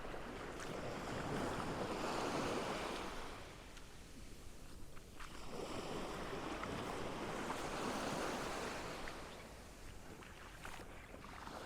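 Sea waves roll in and wash up on the shore, swelling and fading in slow surges, with wind buffeting the microphone and no talking.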